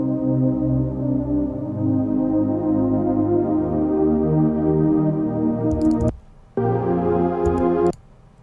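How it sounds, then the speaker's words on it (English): A warm, sustained synthesizer pad chord from Serum with the low end removed drones evenly, then cuts out briefly and returns before stopping abruptly; no voices. "One from Serum, which sounds like this."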